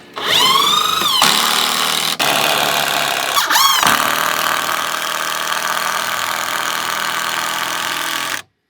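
A power drill drives screws into the wooden rails of a backyard fence during installation: a motor whine spins up, then a loud, steady grinding runs for several seconds, with two brief breaks.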